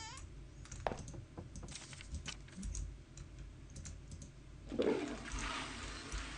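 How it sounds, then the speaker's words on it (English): A toilet flushes in a bathroom in the horror game Ethel, first some clicking and knocking, then a loud rushing gush of water swelling near the end, close and unaccompanied by talk. "Might as well flush the loo again while we're here."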